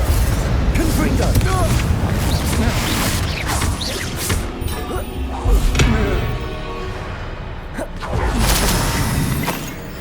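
Crashing, booming spell blasts and impacts from a Confringo blasting spell in the Hogwarts Legacy video game, loud and repeated amid dense combat noise with voices speaking over them.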